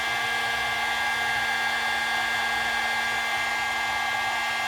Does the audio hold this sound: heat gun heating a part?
yes